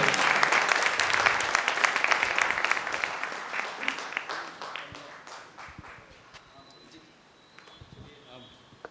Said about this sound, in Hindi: एक बार जोरदार तालियां इस पूरी टीम के लिए।